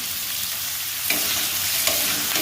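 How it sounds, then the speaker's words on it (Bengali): Onion frying for a dry paneer dish, sizzling loudly and steadily in a pan while a utensil stirs it, with a few scraping strokes standing out from the close, continuous hiss. "দেখো, পেঁয়াজটা হালকা ভাজা হয়ে গেছে।"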